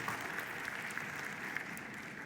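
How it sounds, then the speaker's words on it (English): A conference audience at the South Summit Bogotá playground stage applauds a presenter named David, a faint, steady wash of many hands clapping throughout with a few sharper claps standing out. "round of applause again, please, for David"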